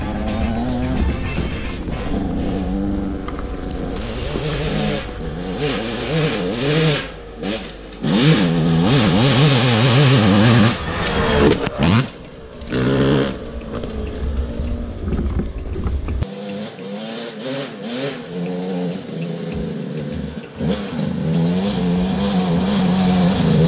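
Motorbike riding past on a High Country mountain spur track, its engine revving loudly with rising and falling pitch as it passes close, strong throughout with brief dips.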